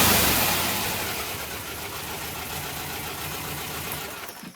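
The air-cooled engine of a 1981 Volkswagen Vanagon idles just after starting, with a loud initial burst easing into a steady, close, slightly rough running rumble.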